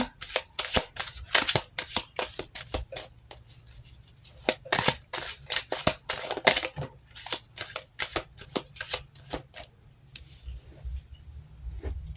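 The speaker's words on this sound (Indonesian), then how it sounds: "Oke, kita shuffle kartunya, kita lihat energinya." A deck of tarot cards being shuffled up close, with rapid bursts of papery riffling and slapping that repeat in quick succession before trailing off near the end.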